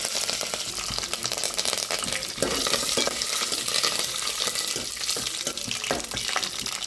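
Curry leaves sizzle steadily in hot tempering oil for a palak dal, a loud continuous crackle with scattered stirring scrapes throughout and no voices.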